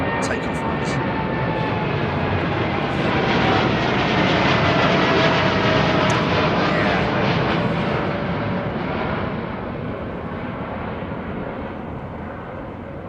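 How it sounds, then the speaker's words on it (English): A Boeing 787 departs London Heathrow with a long, loud engine roar that swells and then slowly fades, steady and continuous with no talk over it. "787 using a lot of runway, as always"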